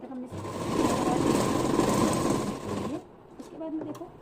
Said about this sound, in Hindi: अब हम यहाँ तक सिलाई कर लेंगे